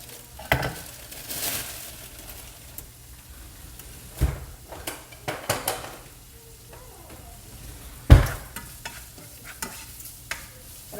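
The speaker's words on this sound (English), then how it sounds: "And I'm just cooking up this bacon here" Fatty bacon frying in a pan for cheddar bacon soup, a soft sizzle beneath sharp scrapes and clanks of a utensil against the pan, several louder knocks spaced apart.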